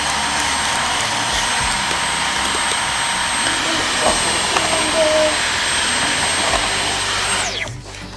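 A Dyson V15 cordless vacuum cleaner runs close by with a steady, loud motor roar and high whine, then switches off near the end as the whine winds down.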